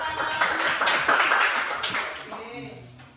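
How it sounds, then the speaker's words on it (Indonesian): A classroom audience claps after a group presentation, a short, fairly close round of applause that swells and then fades out within a few seconds. "Tepuk tangan."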